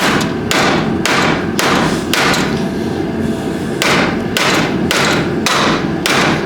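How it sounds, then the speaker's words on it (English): A hammer beats out a crease in the aluminium frame of a damaged Ferrari FF V12, with repeated heavy metallic thuds at a steady rhythm over loud, continuous workshop noise. "There's a little crease there, which we'll try and hammer out a little bit more."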